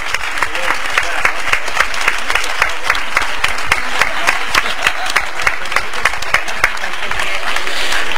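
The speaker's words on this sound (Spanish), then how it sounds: "Vamos a recibirlo con un fortísimo aplauso" An audience at a national flamenco serrana singing contest applauds loudly and steadily for several seconds, with dense, sustained clapping and occasional sharper claps.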